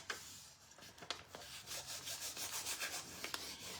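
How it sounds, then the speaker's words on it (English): A transfer being burnished onto a wooden caddy, heard as soft close scraping and rubbing strokes in short uneven bursts, fairly quiet and with no speech. "And I'm going to burnish."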